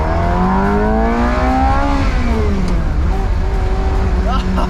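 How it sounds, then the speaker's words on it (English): Ferrari 348 engine revs hard in first gear from the cabin, a loud rising scream with sweeping pitch that climbs, drops at the shift and carries on under steady road noise. "That was just first gear and this car is already so loud."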